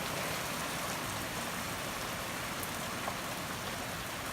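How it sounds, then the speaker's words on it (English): Heavy rain falls steadily outside a window, a dense, even wash of hiss with scattered drips, constant and close throughout with no voices. "It is really raining."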